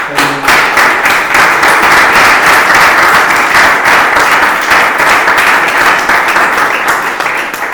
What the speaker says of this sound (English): just want to give you a round of applause